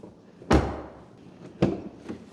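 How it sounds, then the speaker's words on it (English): Passenger door of a 2011 Mercedes-Benz W212 E 550 Sport sedan opening, with a solid latch thump followed about a second later by a second, softer clunk, heard close and with no talking. "Opening our passenger door,"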